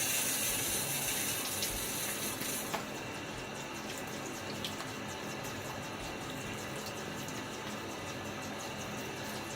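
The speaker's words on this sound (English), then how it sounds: "just rinsing away some nice slickness on my face" Running water from a tap splashes steadily while a face is rinsed after a shave, a close, soft continuous rush that thins slightly after a few seconds.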